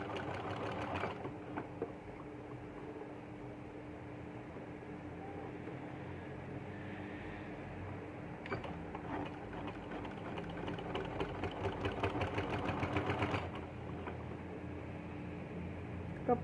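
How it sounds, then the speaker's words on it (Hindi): Domestic sewing machine stitching lace onto folded fabric for a baby yoke frock, a steady rapid mechanical whirr running almost continuously, with brief pauses and a busier stretch near the end. "अब आपने कपड़े को फोल्ड करके लेस रख के सिलाई लगानी है"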